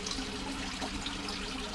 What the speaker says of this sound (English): Water from this fish tank is pumped into these pipes.